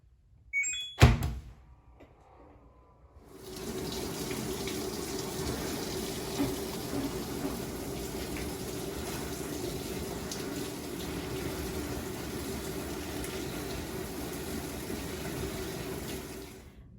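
A washing machine set to deep wash fills with water, a steady rushing hiss that starts after a click and a brief knock and continues evenly at moderate volume.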